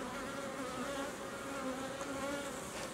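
Honeybees drone steadily at an open hive during a varroa strip treatment, a dense continuous buzz that stays level and close for the whole stretch with no voices over it.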